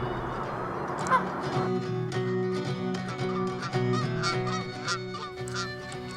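Canada geese honking repeatedly, a series of loud nasal calls from several birds, some overlapping, with a steady background hum.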